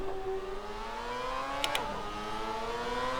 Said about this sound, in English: I love how fast the cars sound and feel in this game.